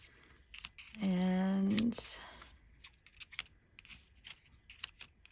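Scissors snip through paper, cutting out circles for a mixed media card: a short run of close crisp cuts near the start, then quiet rustling handling while a voice speaks briefly.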